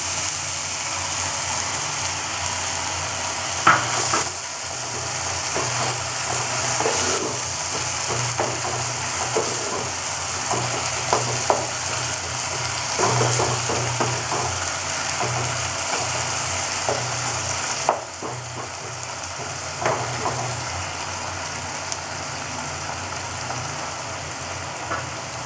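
Tomato puree fries in a pan for spicy chicken, a steady sizzle under scattered clicks and light scrapes of stirring, with a constant low hum in the background.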